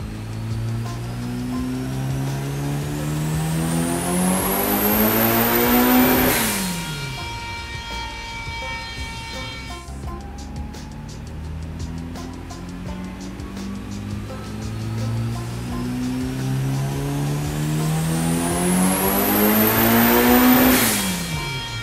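A turbocharged VW Gol engine on a dynamometer, revving in two long pulls that climb steadily to a high scream, drop off sharply and then climb again, loud and close with no talk.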